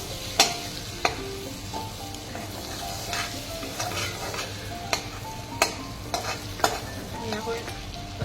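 Paneer and a spoonful of butter sizzle in hot oil in a kadai, a dense, steady frying hiss close by, broken by sharp spatula knocks against the pan every second or so.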